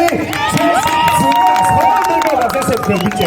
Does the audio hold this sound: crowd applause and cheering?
yes